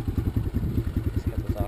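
A used 2009 Kawasaki KLX140L dirt bike warms up at idle, its small engine putting out a steady, rhythmic low thumping close by with no break.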